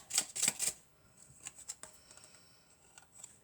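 A deck of tarot or oracle cards riffles in a few quick, crisp bursts during a card reading, followed by softer scattered card taps and slides, close and fairly quiet.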